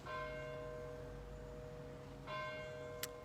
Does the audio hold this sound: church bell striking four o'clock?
yes